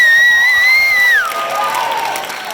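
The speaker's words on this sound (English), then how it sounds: "Give him a round of applause wherever he is." A high school talent show audience lets out a loud, sustained whistle-like cheer that slides downward. Broad crowd applause and cheering follow for the rest of the moment.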